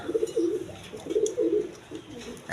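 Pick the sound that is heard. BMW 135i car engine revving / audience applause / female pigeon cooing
female pigeon cooing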